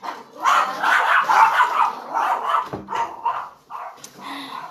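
Female dogs bark and yip indoors near a door, with a close, loud, rapid run of barks continuing for several seconds before tapering into scattered yelps.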